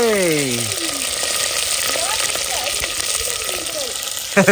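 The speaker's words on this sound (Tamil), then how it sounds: "பூண்டு போட்டா பயங்கரமா வதங்கிட்டு" Garlic fries in a hot pan with a loud, continuous sizzle and crackle, with a few brief stirring sounds and a short knock near the end.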